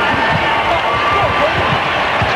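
Crowd cheering at a 1986 NCAA men's basketball East Region final between Duke and Navy, a steady broad roar of arena noise that holds loud and even throughout.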